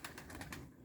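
Resting pigeons in a loft on a calm, windless day give a faint run of soft, rhythmic cooing pulses with no talking.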